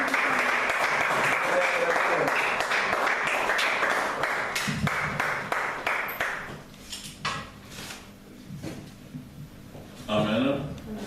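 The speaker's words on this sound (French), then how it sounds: "des acclamations pour la parole de Dieu" A church congregation applauds and cheers, a loud burst of clapping that fades after about six seconds into scattered noises and voices, with another short swell near the end.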